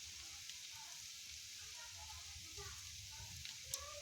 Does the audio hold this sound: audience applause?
no